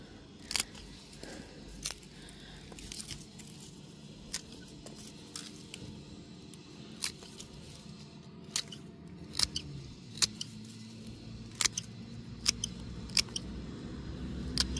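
Scissors snip aeonium velour stems in sharp, quiet, irregular clicks at close range, with faint handling noises between the cuts and no talking.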